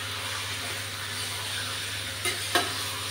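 Meat sizzles in oil in a pan with a little water added, a steady close frying hiss over a low hum and two brief louder spatters near the end.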